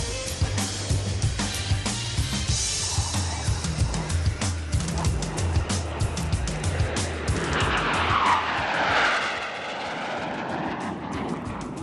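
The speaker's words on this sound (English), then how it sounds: "the team is going for a flyby in India formation" Suryakiran aerobatic team jets fly past in formation at an Indian Air Force firepower demonstration in Pokhran, a rising jet roar that swells and sweeps overhead before fading, over crowd noise with a commentator's voice in places.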